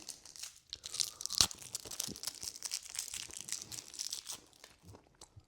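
Peppermint chewing gum being unwrapped and chewed, with crinkling wrapper and close, moist crunching and mouth sounds in quick irregular bursts, no talking.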